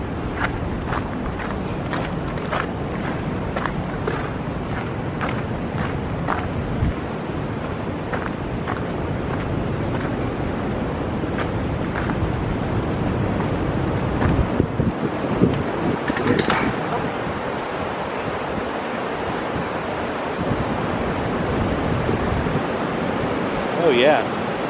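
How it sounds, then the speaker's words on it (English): Roaring water in Box Canyon, Ouray, Colorado, a loud, steady rushing roar heard outdoors on a trail, with wind buffeting and occasional footsteps. "And I hear some roaring water."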